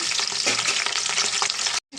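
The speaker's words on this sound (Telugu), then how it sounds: "దీంట్లో పచ్చిమిర్చి వేసుకున్నామండి ముందు తర్వాత మెంతులు ఒక స్పూను కొంచెం కరివేపాకు" Green chillies, fenugreek seeds and curry leaves frying in hot oil for an Andhra-style small fish curry, giving a loud, steady sizzle and crackle that runs close up and continuously before cutting off abruptly near the end.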